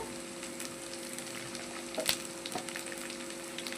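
Ginger-garlic paste and curry leaves fry in a pan with a steady, close sizzle, broken by a sharper crackling burst midway and a few soft stirring taps.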